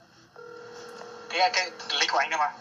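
A phone line carrying a steady tone and then a burst of dialing or call sounds, as a smuggler calls a reporter posing as a Vietnamese migrant; close and clear, no talk heard.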